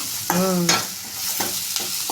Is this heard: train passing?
no